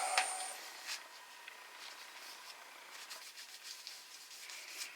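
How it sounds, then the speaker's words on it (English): Faint, soft rubbing strokes of 400-grit sandpaper on wood, repeated in an irregular rhythm close to the microphone. "I was just sanding it with 400 grit."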